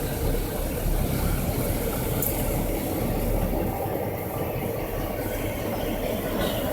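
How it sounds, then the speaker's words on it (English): A train on the WW Railroad's C&M line slows to a stop, a steady broadband rumble and rolling roar holding at an even loudness throughout, with no voices. "the train slows to a stop"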